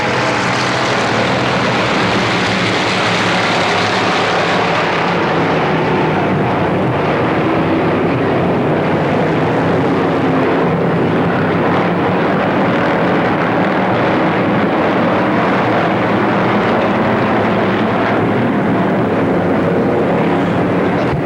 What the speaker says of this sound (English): Spectator stock heat race number 1 is underway.